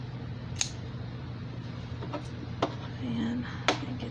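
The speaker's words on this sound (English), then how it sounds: "I'm going to cut this out" Scissors snipping through quilted fabric while cutting out a basket piece, a few soft, separate snips over a steady low room hum.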